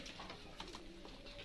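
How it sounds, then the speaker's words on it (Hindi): Pigeons cooing in a pet shop, with soft, low, throaty coos repeating a few times over quiet room ambience, fairly faint and brief. "बहुत वधिया चंगे कबूतर"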